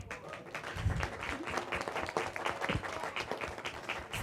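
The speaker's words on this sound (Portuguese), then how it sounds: "Essas palmas são para ela." Steady applause from an audience at a PSDB training course for women pre-candidates ahead of the 2024 elections, sustained and dense clapping throughout with no speech over it.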